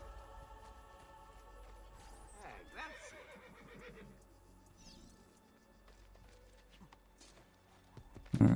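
A horse neighs and its hooves clop while it is ridden in Assassin's Creed 2, mixed with game music and background voices at a moderate level.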